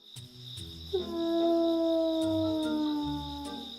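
A single long wolf howl rises from a short yelp into a sustained, slowly falling wail, clear and close over a steady high background hum.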